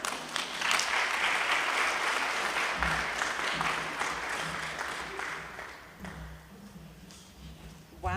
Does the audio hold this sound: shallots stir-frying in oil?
no